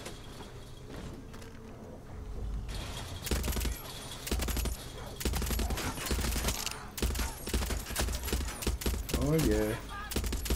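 Gunfire in a Far Cry 6 mission near a mounted machine gun, scattered sharp shots in bursts under someone talking briefly, with a busy game background of movement and ambience.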